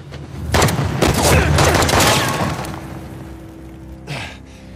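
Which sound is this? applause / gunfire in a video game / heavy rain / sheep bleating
gunfire in a video game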